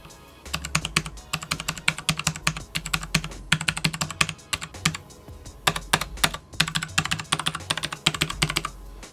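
Rapid, steady typing on the keys of a Mizux wireless mechanical numpad with Cherry MX compatible keycaps, close and clear, in bursts of clacky keystrokes separated by brief pauses, with no talking.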